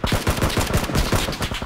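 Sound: gunshots in a video game

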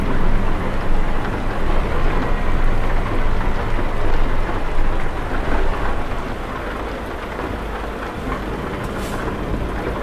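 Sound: rain in Euro Truck Simulator 2 video game

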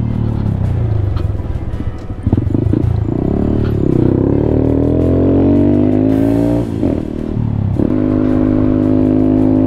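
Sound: Honda Grom motorcycle engine running hesitantly after refuelling

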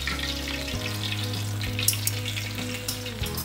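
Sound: black pomfret fish frying in oil

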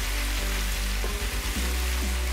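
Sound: onions frying in hot cooking oil

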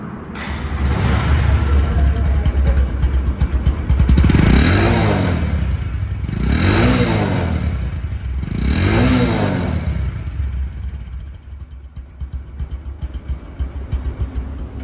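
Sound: Bajaj Discover 125cc motorcycle engine running

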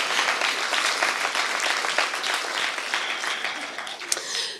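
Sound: audience applause and cheering for an award winner

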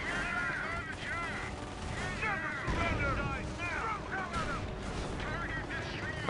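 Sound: explosions blowing up a machine gun nest in Company of Heroes video game

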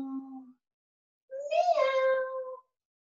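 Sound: people imitating cat meows during yoga cat pose

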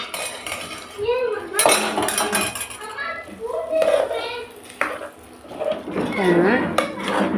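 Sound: stirring curd rice in a vessel

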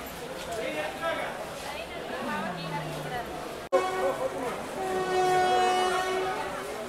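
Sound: intercity express train running

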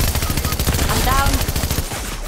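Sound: gunfire in a video game (Fortnite squads)

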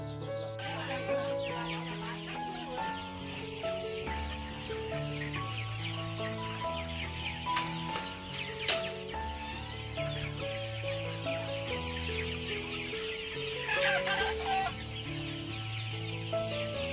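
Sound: Mia chickens clucking on a farm

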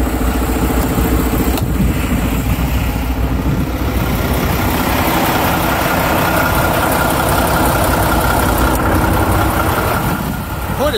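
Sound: Mack Pinnacle truck engine idling with hood open

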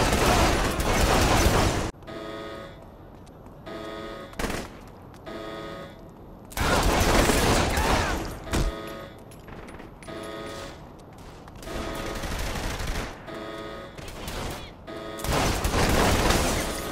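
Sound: gunfire in Saints Row 3 Remastered video game

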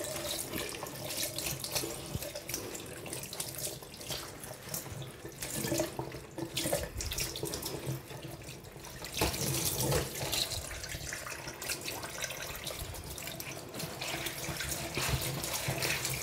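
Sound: tap water rinsing dyed fabric in sink

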